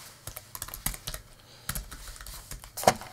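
Typing an email on a computer keyboard: irregular clusters of close, crisp key clicks with brief pauses between bursts, heard alone without talk.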